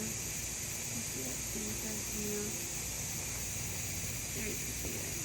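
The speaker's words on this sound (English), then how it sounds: "It's going to start, so you can see how the steam, there" Steady, continuous hiss of steam venting from a pressure canner during home canning, moderately loud and unbroken, with a person talking faintly underneath.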